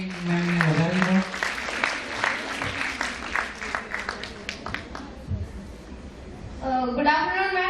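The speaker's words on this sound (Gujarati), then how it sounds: "જોરદાર તાળીથી વિદ્યાર્થી મેમને વધારી દો." An audience at an NRI marriage awareness seminar claps for a student, a burst of applause that fades out, with people speaking over and after it.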